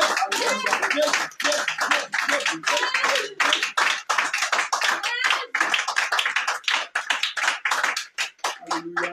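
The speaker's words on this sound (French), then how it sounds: "Bien-aimé, acclame Jésus." A church congregation claps in acclamation during a worship service in Grand Béréby, with dense bursts of many hands mixed with loud voices and shouting, up close and continuous until a brief lull near the end.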